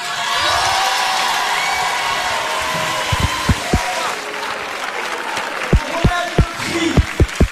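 A packed concert crowd applauds and cheers for a rap group at the Olympia, with sustained dense clapping, shouts and whoops throughout, and a run of heavy low thumps punching through near the end.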